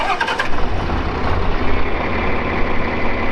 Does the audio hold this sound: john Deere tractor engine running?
yes